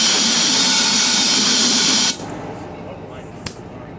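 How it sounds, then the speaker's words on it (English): Compressed air blasts loudly through a Ryobi BP42 backpack blower carburetor for about two seconds, a harsh hiss that cuts off sharply, leaving quieter room sound and a brief clack. "I'm going to blow it out with air just to make sure there's nothing left."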